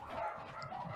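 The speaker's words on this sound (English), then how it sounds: "Someone's dogs are going crazy." Dogs bark somewhere in the background during a casual conversation among band members over drinks. The barking is faint and distant, a brief stretch of yaps and whimpers with no speech over it.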